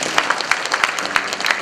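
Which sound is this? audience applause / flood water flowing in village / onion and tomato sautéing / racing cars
audience applause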